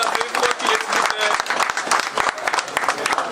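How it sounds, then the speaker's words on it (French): Loud, dense applause from a crowd, steady clapping throughout with a few cheers mixed in. "je vais vous demander s'il vous plaît de l'applaudir très très fort"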